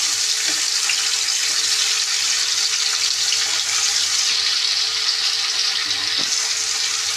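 Pieces of ridge gourd sizzle steadily in hot oil with dried chillies and tempering spices, a continuous close hiss with a few faint clicks and no talking.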